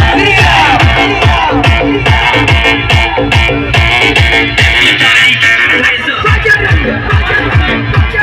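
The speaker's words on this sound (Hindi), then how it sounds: "इतनी भीड़, इतना रस, सब कुछ मैनेज करना भाई साहब अनबिलीवेबल है। बहुत क्राउड है" A huge, loud crowd fills a Hanuman Jayanti Shobha Yatra rally in Boisar, with a continuous roar of voices and shouts over a steady, pulsing beat.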